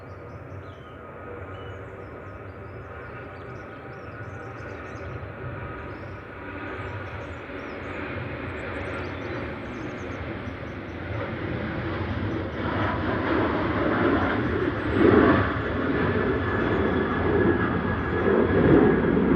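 A Jet2 jet airliner in classic retro livery takes off at Manchester Airport on a flight to Malta. Its engine roar builds steadily from a distant rumble to a loud, sustained blast with no talk.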